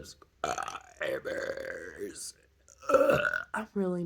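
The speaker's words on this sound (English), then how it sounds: "I'm really not good at burp talk." A woman burp-talks, forcing words out on long, croaking belches in several bursts separated by short pauses, close to the mic.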